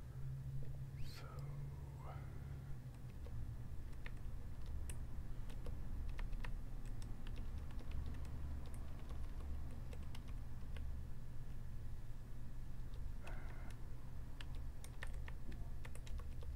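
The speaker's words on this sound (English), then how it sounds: "You who like hearing the keyboard tapping, that's gotta be a blast, right?" Soft, close computer keyboard typing taps away steadily during gameplay in a quiet ASMR setting, with a low steady hum beneath the clicks.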